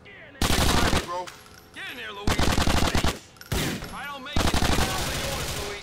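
Heavy automatic gunfire in GTA 4, loud and close, coming in several long sustained bursts separated by short pauses, with faint whooshing and clanking between volleys.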